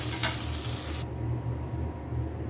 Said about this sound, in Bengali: পটলটা আমার ভাজা হয়ে গেছে